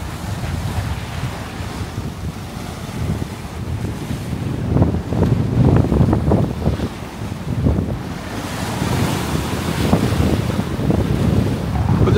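Gentle sea waves washing and surging at sea away from land, with steady wind buffeting the microphone throughout; soft rhythmic swells rise and fall without any voices.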